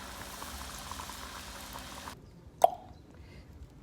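Chicken rolls deep-frying in oil over medium heat give a steady, soft bubbling hiss that cuts off abruptly partway through, followed by a single sharp click and brief quiet.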